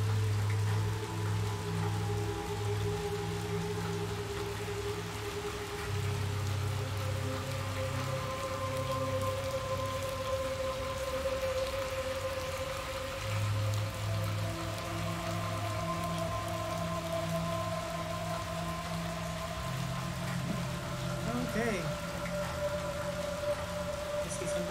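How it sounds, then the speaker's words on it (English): Rain falls in the video game Little Nightmares 2, a steady hiss of drops on surfaces running throughout over low humming game ambience, with no talk. "You know what? It's raining."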